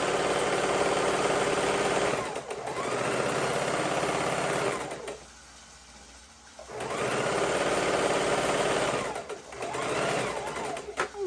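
Sewing machine stitching the border of a baby quilt, a fast steady whirring hum in long runs with a short pause in the middle and brief stops near the end, close up.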